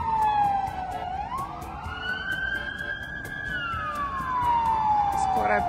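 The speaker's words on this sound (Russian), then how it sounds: "О, и тут сирены есть." A wailing siren sweeps slowly down and up in pitch, steady and fairly near, with traffic noise underneath and no talking, on a street in Chisinau in autumn.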